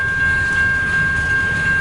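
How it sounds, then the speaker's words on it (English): Freight cars of a long westbound CN mixed manifest train, including a lumber car and a box car, roll past close by with a loud, steady rail rumble and a faint high squeal. "that number's on the train cars, but there's a lumber car right there."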